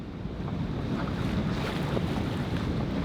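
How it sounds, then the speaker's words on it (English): Strong headwind buffets a sailboat at sea off the Italian coast, a steady roaring rush of wind noise over the microphone mixed with water and waves, with no voices. "Got a strong headwind at the moment. It's picking up speed."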